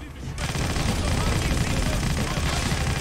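AI enemies open fire in the video game 50 Cent: Blood on the Sand. Loud, dense, continuous machine-gun bursts start abruptly and rattle on throughout, close and harsh, with a voice faintly underneath.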